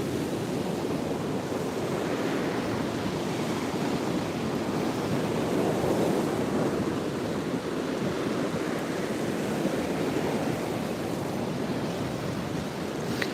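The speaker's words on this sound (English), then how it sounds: "The sea's come in really strongly and it's just dumped all of the seaweed" Sea waves washing onto a stony beach strewn with heavy seaweed after a strong tide, a constant rushing roar of surf with gusty wind on the microphone and no voices.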